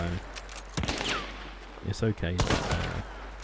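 Gunfire in the video game Hunt: Showdown, several sharp shots and bursts scattered across a few seconds, with louder cracks near the middle, over a steady low game ambience.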